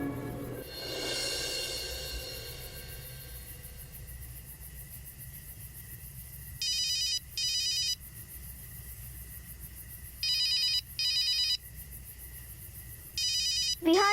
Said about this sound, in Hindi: रिहान जीजू का फोन है।